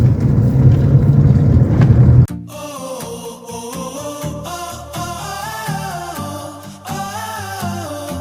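A manual-transmission car's engine revs loud and rough for about two seconds as the accelerator is pressed, then cuts off abruptly as music takes over.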